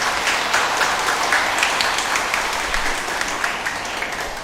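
A church congregation at an Easter Vigil Mass applauds the organizing committee, a dense, steady round of clapping that stays loud for the whole stretch and tapers slightly at the end.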